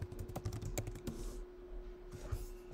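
Rapid, close, quiet keystrokes on a computer keyboard as a password is typed in, in a short irregular burst.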